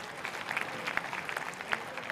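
A fairly quiet audience at a Club Netsurf mentoring event claps at a moderate distance, a loose patter of individual claps with no talking.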